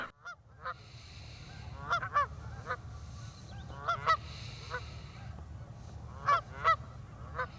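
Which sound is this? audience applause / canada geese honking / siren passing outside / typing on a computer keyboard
canada geese honking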